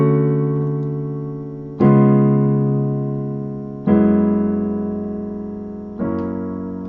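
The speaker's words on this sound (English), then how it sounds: "So now I'm going to show you guys how to play the chords and the bass" Piano chords with a bass line from a song, played as four sustained chords struck about every two seconds. Each chord rings out and slowly fades before the next, with no talking.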